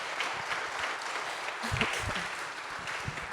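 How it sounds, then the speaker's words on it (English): A church congregation applauds children at a morning worship service, a moderate, continuous patter of many hands with a few low thumps mixed in. "let's give our lovely children a round of applause for being so helpful this morning"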